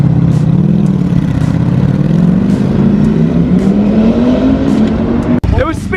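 A 2020 Ducati Streetfighter motorcycle fitted with a full Akrapovic exhaust revs loud and close on its first start, engine pitch climbing steadily before a sharp crackling pop near the end.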